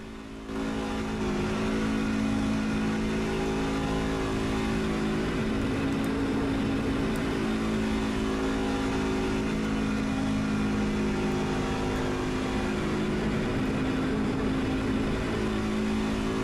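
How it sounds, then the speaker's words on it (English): Onboard engine of the number 21 race car during a restart at Nashville Superspeedway: a loud, sustained droning roar with steady tonal harmonics that holds at high revs for the whole stretch, with no talk. "We're going to go on board with the number 21 machine of Aaron Shacklett, so you guys can see what a restart is like here at Nashville"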